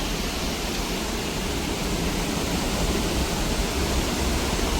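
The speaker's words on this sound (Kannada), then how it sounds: "ಫಾಲ್ಸ್ ಕಾಣಿಸ್ತಿದೆ ನೋಡಿ, ಕ್ರೇಜಿ ಆಗಿದೆ ಫಾಲ್ಸ್ ಮಾತ್ರ" Burude Falls near Siddapur in Uttara Kannada roars as a constant dense rush of falling water, loud and steady throughout with no voices.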